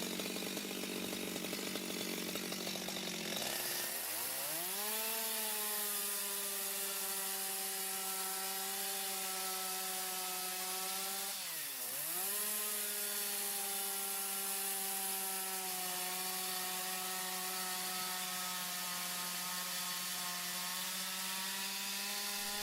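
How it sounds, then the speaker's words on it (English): Steel power saw bites into a massive Karelian pine trunk, its whine dropping in pitch as it loads into the wood, briefly easing and dipping again midway, then grinding on steadily, loud and close. "a steel power saw, the craftsman slices through massive trunks with practiced ease, shaping beams"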